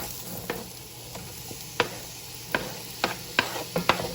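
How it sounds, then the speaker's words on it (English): Onions sautéing in a hot pan, a steady moderate sizzle punctuated by a series of sharp utensil taps and scrapes that come more often toward the end. "I'm going to saute those a few minutes before I add the garlic"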